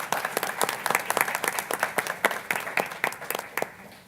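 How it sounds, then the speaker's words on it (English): Scattered clapping at a board of education meeting, a small group applauding staff with distinct individual claps forming an uneven patter that tapers slightly. "I'd like to give all of them a round of applause"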